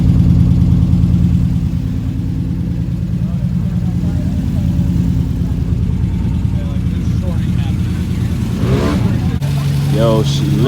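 A BMW E36 car engine idles steadily after sitting abandoned for two years, a close, even low drone throughout, with people's voices heard over it toward the end.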